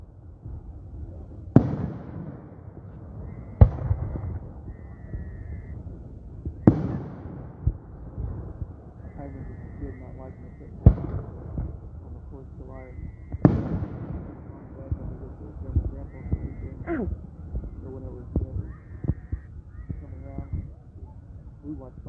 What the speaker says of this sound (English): fireworks in 4 different places.